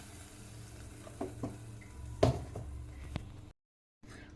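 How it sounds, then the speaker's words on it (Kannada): Tempering (oggarane) poured into hot sambar for togaribele curry, giving a quick burst of sizzle and crackle over a steady low frying hiss, followed by a brief clatter and a sudden cutoff. "ಈಗ ಒಗ್ಗರಣೆ ಹಾಕ್ತೀನಿ"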